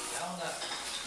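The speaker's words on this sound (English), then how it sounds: "Just gonna mix this all in." Fried rice mixed into brisket sauce, a brief soft scraping and stirring of utensil against a dish, quiet and close, with faint room noise.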